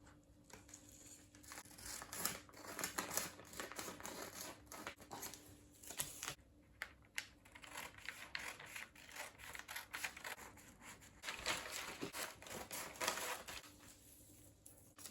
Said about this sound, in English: Now I'm going to cut this side as well.